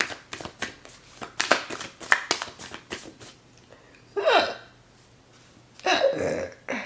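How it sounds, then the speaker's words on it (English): A woman doing a tarot love reading lets out a burp partway through, a short throaty gulp following a run of sharp card-shuffling rustles and taps; a second rough vocal burst follows near the end. "Sorry, confirmation burp."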